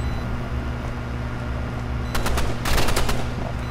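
Burst rifle fire in a video game: a few sharp short bursts of shots cut through steady game ambience and hum in the second half, fairly close and loud, with no talking.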